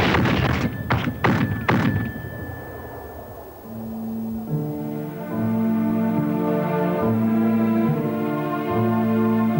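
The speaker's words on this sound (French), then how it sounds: "Les tirs de préparation s'intensifient." Preparatory artillery fire before a wartime embarkation and battle: a few loud, heavy booms in quick succession, then a swelling musical score takes over.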